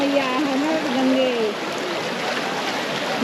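Cold mountain stream water rushing steadily, a broad continuous wash close by with people talking over it.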